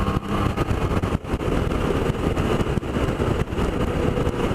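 A Suzuki Burgman 650 scooter engine hums steadily while riding, mixed with buffeting wind noise and brief dips in loudness, with no talking.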